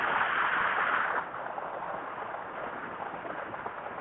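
A waterfall on the pilgrimage route at Sammed Shikharji gives a steady, close broadband roar that drops slightly in level after the first second, with no speech.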